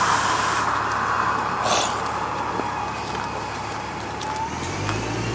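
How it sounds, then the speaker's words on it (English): A bus passes by outdoors, a broad rumbling roar that fades gradually as it moves away, with no talking. "And there goes the bus right there."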